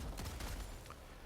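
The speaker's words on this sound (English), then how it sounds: "There's other ones that look like Terminators that are shooting laser cannons at you." Rapid bursts of laser-gun fire from Terminator-like robots in the video game Helldivers 2, several sharp shots in quick succession at a steady, fairly loud level with no voices.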